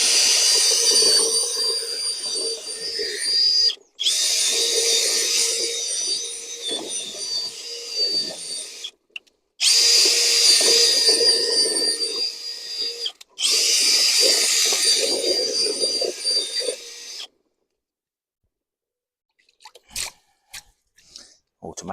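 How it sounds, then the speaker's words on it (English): A Dongchen cordless power drill runs in four long bursts with brief pauses, driving into wood outdoors in a garden setting, loud and close, followed by a few scattered clicks and knocks. "Using the Dongchen drill that we reviewed."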